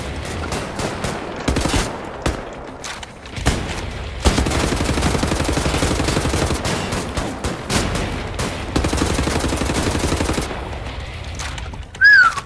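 Rapid automatic gunfire in the first-person shooter Wolfenstein: The New Order, loud continuous bursts of shots with brief pauses between volleys, no talk over it.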